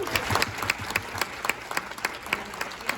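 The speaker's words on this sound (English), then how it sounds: "can we please give another round of applause?" Audience applause at the University of Tennessee System 2025 Administrative Professional Summit keynote: a dense, steady crowd clapping at close range that holds at full strength throughout.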